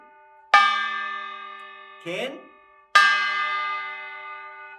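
A kkwaenggwari, a small Korean gong, is struck twice, each clang ringing and fading slowly, with a short spoken syllable between the hits.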